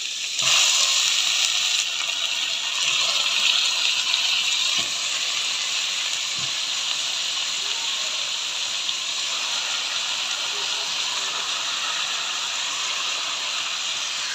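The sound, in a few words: chicken added to hot ghee in a pan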